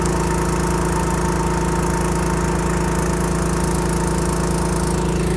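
A Mack R600 truck's diesel engine, short of fuel after engine work, chugs loudly and close in a fast, even, mechanical rhythm that carries without a break.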